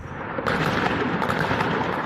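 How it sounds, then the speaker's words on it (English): Gunfire from security forces cracking down on street protests in Iran, heard as a dense, loud burst of sharp cracks and booming reports with no speech. "Videos posted online appear to show Iranian security forces responding with gunfire."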